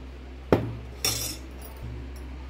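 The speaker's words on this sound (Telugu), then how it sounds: "బాగా మిక్స్ చేసి మనం సర్వ్ చేసుకునే గ్లాసులో వేసుకుని" Spicy buttermilk mixed in a vessel and poured into a serving glass, heard as a sharp clink at the start, then a brief splashing pour, with a faint knock near the end and no talking.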